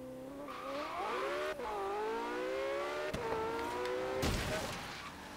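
A Pagani sports car in Forza Horizon 3 holds its revs steady on launch control, then launches with a droning engine note that climbs and shifts, ending in a sharp burst of tire noise.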